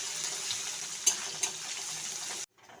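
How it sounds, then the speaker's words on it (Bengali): Whole spices, asafoetida and a spoon of ginger and green chilli paste tempering in hot oil, giving a steady close hiss with a couple of sharp crackles before stopping abruptly. "এবার আমি ফোড়নটাকে কিছুক্ষণ ভেজে নিচ্ছি।"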